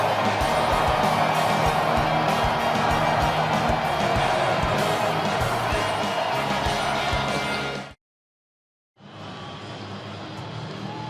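A large stadium crowd at snowy Lambeau Field in Green Bay singing during a Lions at Packers football game, a broad, loud roar of many voices over steady crowd noise, briefly cut off before resuming.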